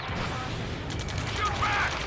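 Gunfire rattles through a mission of the jet combat game Ace Combat 7, a steady dense burst of shots that runs for the whole stretch with a few sharper cracks toward the end and voices talking in the background.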